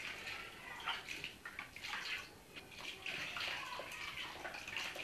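Water runs and splashes steadily, as if poured or filling a pot, while raschiatelli pasta is made by hand; a continuous close rush with slight fluctuations and no clear talk.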